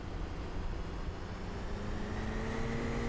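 A simulated aircraft accelerates down the runway for takeoff in a flight-sim video game. The engine makes a steady, low droning rumble with faint tones rising slowly, heard alone with no voices.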